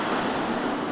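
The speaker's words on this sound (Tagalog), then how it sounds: "mas maliit po na China Coast Guard vessel na bumubuga ng water cannon" A China Coast Guard water cannon blasting seawater at a boat, heard as a loud, dense, continuous roaring spray, close and unbroken throughout the short moment with no talking.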